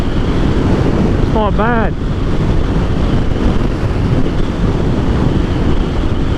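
Heavy, roaring wind buffeting the microphone while riding a 2020 Aprilia Dorsoduro 900 motorcycle with no wind protection, loud and continuous, with a rider speaking briefly over it.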